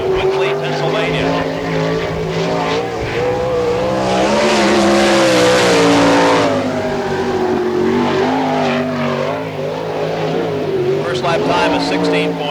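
Sprint car number 5 driven by Jamie Smith racing around the dirt speedway at Barberville, Florida during an All Star Circuit of Champions event, a loud sustained engine roar rising and falling as it laps, with an announcer talking over it.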